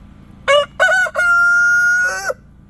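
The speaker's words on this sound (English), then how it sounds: "This is Jack, handsome Jack, and our blue lace red Wyandotte chickens" A blue laced red Wyandotte rooster, about a year old, crows close and loud in Pelion, South Carolina. It gives two short opening notes, then a long sustained note that drops off at the end, with no other sound around it.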